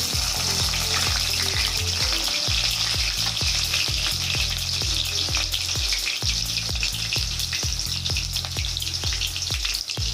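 Small onions and fennel seeds frying in hot oil, a steady dense sizzle and crackle with frequent sharp pops and stirring clatter, loud and close with no talking.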